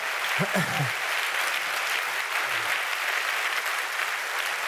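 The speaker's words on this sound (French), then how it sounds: "Je crois qu'on peut l'applaudir." Continuous clapping from the crowd at the Magritte awards ceremony carries on throughout, a short spoken voice cutting through early on before the applause continues alone.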